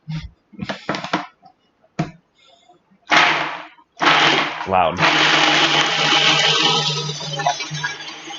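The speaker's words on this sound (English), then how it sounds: "And now we blend, or process." Food processor blending a vegan meatball mixture with garlic, a loud sustained whirring grind that starts after brief talk and short clattering, running steadily to the end.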